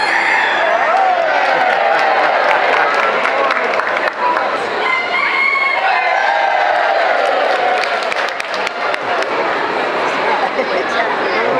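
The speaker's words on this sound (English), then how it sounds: "She did something to convince that one to crow" A rooster crows in a crowing contest at the Minnesota State Fair, its strained calls rising over a loud, close crowd that chatters and cheers throughout while someone talks.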